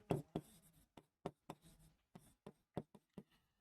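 A marker or chalk writes on a board during a lesson, sounding as a series of short, sharp scratching strokes separated by brief pauses, close and fairly clear with little talk.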